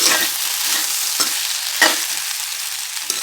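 Okra sautéed in a hot pan, a loud bright sizzle running throughout, broken by a few sharp stirring scrapes.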